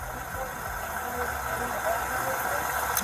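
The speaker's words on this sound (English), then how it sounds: "there's some type of rattling, it sounds like over in here, and then there's obviously your engine" Car engine idling at a traffic stop, a steady low rumble with a loud rattle running continuously underneath broadband road and wind noise.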